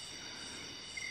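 Crickets chirp at night in a forest, a steady faint high-pitched trill that continues unbroken through the short moment, with no voices.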